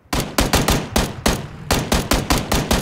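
Gunfire in PUBG (Battlegrounds): a loud, close series of sharp shots in quick bursts, about a dozen cracks in under three seconds with brief gaps between volleys.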